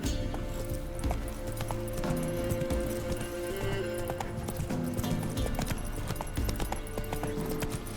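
Roach, the horse in Witcher 3, gallops in steady rapid hoofbeats that continue throughout, close and loud under game music and ambience, with voices speaking over the pounding.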